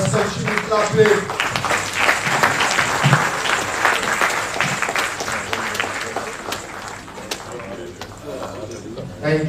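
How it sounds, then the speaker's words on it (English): Applause from an audience at an International Youth Day celebration hall, a steady wash of clapping running throughout, mixed with crowd murmur and voices talking over it. "Let us continue clapping."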